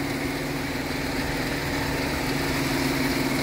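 A 3.6-liter V6 in a 2019 Dodge Durango GT idles steadily, a constant low hum with a mid-range whir that holds close and even throughout, with no talking.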